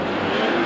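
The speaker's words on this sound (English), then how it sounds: "there you get a panoramic view as the cars rush down Biscayne Boulevard" Race cars at the 1984 Miami Grand Prix IMSA event roar down Biscayne Boulevard on the street circuit, a loud, continuous engine wash filling a brief moment.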